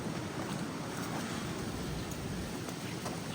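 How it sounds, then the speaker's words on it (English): Cold wind blowing outdoors, a loud constant broadband roar with buffeting against the microphone, steady throughout with no talk. "Hear that wind? It is cold out here."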